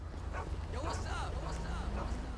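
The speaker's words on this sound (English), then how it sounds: "There's a dog barking somewhere." A dog barks and yelps somewhere in the GTA V video game world, several short calls sitting under steady game background noise and someone talking over them.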